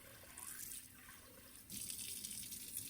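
Tap water runs into a bowl of uncooked rice to cover the grains for soaking before making rice porridge, a steady close splashing stream that swells louder partway through, with no talk.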